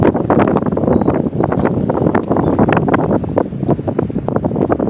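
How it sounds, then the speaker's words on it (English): Strong wind buffets the microphone on the San Joaquin Delta in a steady, roaring rush with gusty bursts, loud and close, with no talking. "It's windy, but it's not cold."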